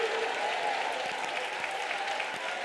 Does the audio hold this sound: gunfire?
no